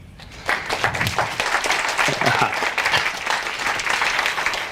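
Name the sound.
audience applause welcoming speaker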